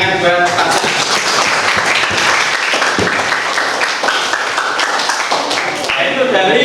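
A group applauds a participant in a continuous, fairly loud patter of clapping that fills the room and stays steady throughout.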